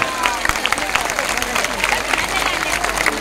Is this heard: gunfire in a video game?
no